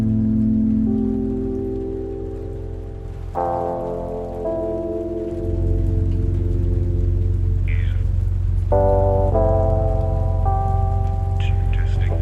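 Engine of a Sling trainer aircraft in Windhoek catching and settling into a steady run after start, a loud continuous drone with harmonic tones that rises in level partway through.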